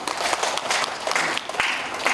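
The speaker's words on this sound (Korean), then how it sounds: "박수 한번 좀." Audience applause at a Christian creators' conference session, a short burst of many people clapping together, steady and fairly loud from start to finish.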